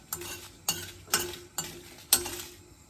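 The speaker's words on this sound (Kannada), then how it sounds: "ಒಣಗಿದ ಮೆಣಸಿನ್ಕಾಯಿನ ಫ್ರೈ ಮಾಡ್ಕೊಳ್ತಾ ಇದ್ದೀನಿ" Dried red chillies fry in a pan with a steady sizzle, broken by five sharp clatters at roughly half-second intervals as they are stirred, moderately loud and close, with no talking.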